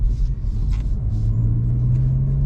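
A 2022 Honda Civic Si running a Ktuner TSP1 tune on map 2 pulls hard, its engine a steady deep rumble with a rising drone, close and loud, no talk.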